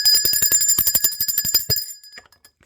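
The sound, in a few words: bell ringing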